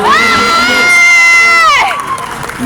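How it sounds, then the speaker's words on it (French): A crowd at a cosplay contest cheers a cosplayer with a loud, high, sustained collective whoop lasting about two seconds before it fades into lower crowd murmur. "On l'applaudit encore s'il vous plaît"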